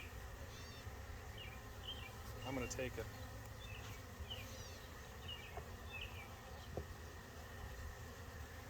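Honey bees buzz steadily on a hive frame in an outdoor apiary while a hive is split, a dense insect drone with birdsong in the background and brief nearby speech.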